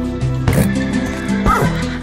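Horse whinnying twice inside a Star Wars Battlefront-style video game, two clear rising-falling calls over a busy game soundtrack with music and effects.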